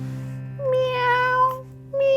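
In a Spanish-language children's storytime, a voice imitates a cat with two drawn-out, rising-and-falling meows, close and clear, separated by a short pause.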